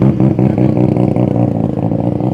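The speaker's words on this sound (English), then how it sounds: "Oh, that rotary sound, that brap brap, it's like a two-stroke motorcycle enveloped in a car." A Mazda RX-7 FD rotary-engine car revs hard with a rapid, choppy burble, pulsing loudly and continuously up close.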